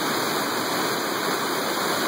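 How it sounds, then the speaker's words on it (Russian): A waterfall near Cornell University roars in a steady, dense, hissing rush, loud and close, constant throughout without any voices. "Вот так выглядит здешний местный водопад."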